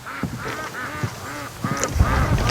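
Several ducks quack in a busy, overlapping series of nasal calls, fairly close, with some rustling underneath.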